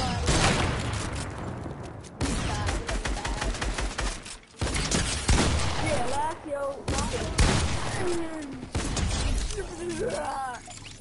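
Fireworks set off in the Fortnite video game, a dense run of crackling bursts and booms through most of the stretch, loud and close, mixed with game effects while a player talks excitedly over them.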